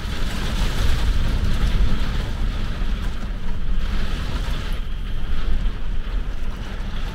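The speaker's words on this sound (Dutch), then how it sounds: "Maar met heel veel regen en hele harde windstoten." Heavy rain and strong wind gusts outside a small camper van, a dense continuous roar of rain and buffeting wind close to the microphone with no talk.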